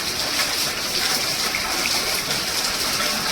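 Steady hiss of rain falling, broad and continuous with no voices, like a downpour heard from under cover.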